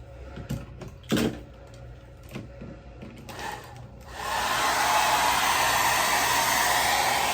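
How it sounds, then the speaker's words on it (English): A blow dryer switches on and runs steadily to heat freshly applied false eyelash glue, a continuous airy whoosh following a few soft handling knocks. "throw the blow dryer on it right afterwards"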